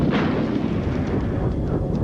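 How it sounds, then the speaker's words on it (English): A huge fuel-air explosion as petrol from a slashed helicopter fuel tank ignites on hot metal, heard as a sustained, loud, deep roaring rumble with no pauses. "A huge fuel-air explosion followed."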